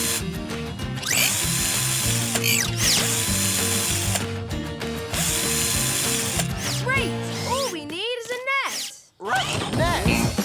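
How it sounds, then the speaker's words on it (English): Cartoon screwdriver effect as a pup screws parts together during a soccer match rescue, a busy ratcheting, whirring mechanical run over bright music, ending in rising boing-like sweeps. "Rocky, I need you to screw them together."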